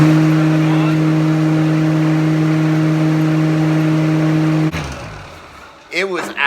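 A homemade shop dust collector blower runs as a loud, steady machine drone with strong low hum tones without pause, then cuts off abruptly, leaving a brief quiet stretch and a voice.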